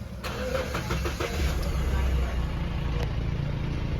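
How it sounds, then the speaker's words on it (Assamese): A Mahindra Bolero engine runs at a steady low idle with a continuous rumble throughout, and a couple of brief clicks sound near the start. "দেখিলে ইঞ্জিনৰ চাউণ্ড"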